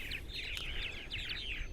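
Purple martins, North America's largest swallow, chirp and twitter in quick overlapping bursts on eastern Long Island, New York, a steady bright chatter over faint background noise.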